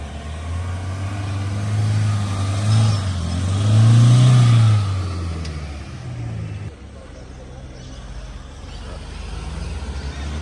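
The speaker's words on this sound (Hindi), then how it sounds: "तो चलिए जी, हमारी गाड़ी हमने जो है वो साइड पे कर ली है।" Off-road vehicle engine on a rough trail, a loud steady drone that rises into a stronger rev midway and then drops back to a lower idle-like hum.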